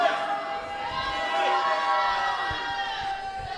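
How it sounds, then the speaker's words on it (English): A wrestling crowd at a Pittsburgh fight night gives a sustained, dense roar of shouting and jeering voices that fills the space steadily and at moderate loudness throughout. "Crowd obviously unhappy."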